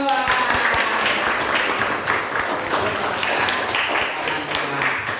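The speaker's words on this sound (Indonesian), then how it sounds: "Tepuk semuanya ya." A group of children clapping their hands in a classroom, a busy, fairly loud patter of claps with some individual sharp hits near the start.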